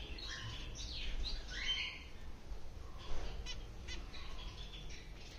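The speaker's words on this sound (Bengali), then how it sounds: "আসলে ফিঞ্চ পাখি ছোট প্রজাতির মধ্যে অনেক সুন্দর একটা পাখি" Small pet finches, males and females together, give bursts of high chirps and short calls, busiest early on and again midway, over a faint steady background hiss.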